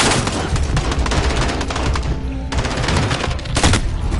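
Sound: gunfire in video game Call of Duty Modern Warfare

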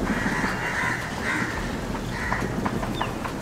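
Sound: crow cawing outdoors

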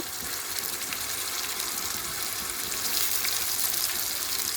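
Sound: onion paste frying in pan

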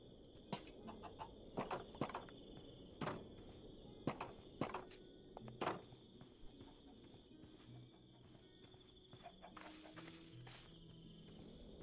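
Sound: chickens clucking in the video game Minecraft

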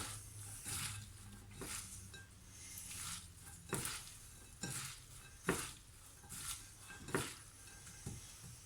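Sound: stirring and mixing ingredients in a pan

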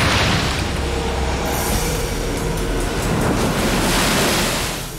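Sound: ocean waves in heavy swell at Bondi beach

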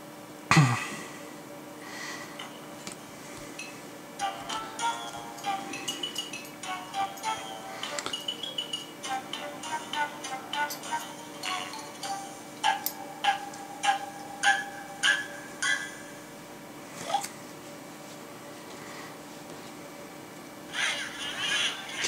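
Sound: Angry Birds video game sounds on Nook Color tablet

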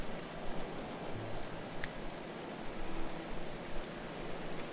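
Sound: rain falling in the video game Going Medieval

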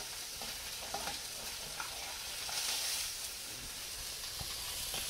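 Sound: papio fish pan frying

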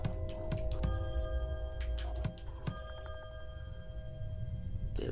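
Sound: telephone ringing in the Slayaway Camp video game

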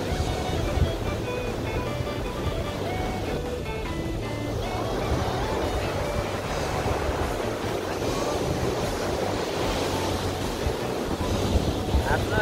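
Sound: sea waves at beach park

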